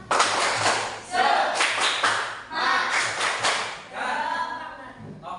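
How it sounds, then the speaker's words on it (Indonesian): A school class performs a rhythmic spirit clap together, bursts of loud, close group clapping in patterned groups repeating across several seconds, with brief pauses between phrases. "Yuk, silakan ready. 1, 2, 3. Tepuk semangat."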